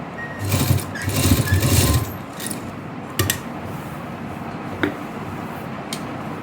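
A sewing machine stitching a V-neck dress collar runs in a loud, fast burst near the start, then falls to quieter handling clicks and faint workshop noise, with no talking.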